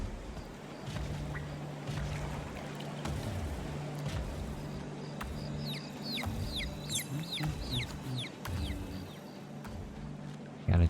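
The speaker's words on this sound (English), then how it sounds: "Got a chicken." Chickens cluck in The Serpent Rogue video game, with a few short, chirpy calls at moderate distance over a steady low ambient game drone and background noise.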